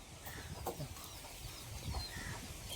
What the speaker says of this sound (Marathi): अशा प्युअर ओरिजिनल गावठी कोंबड्या दिलेल्या आहेत